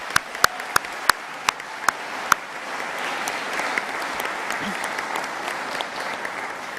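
Audience applause at a college graduation ceremony, opening with a few sharp isolated claps that swell into steady, sustained clapping from a large crowd in a hall.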